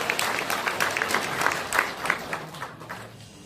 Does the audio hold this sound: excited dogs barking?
no